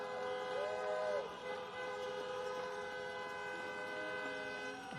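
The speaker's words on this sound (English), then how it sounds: "honk for your next United States Senators, Jon Ossoff and Reverend Raphael Warnock." Car horns honk at a drive-in campaign rally in Georgia, a long sustained blare and several overlapping tones sounding over steady crowd and engine noise.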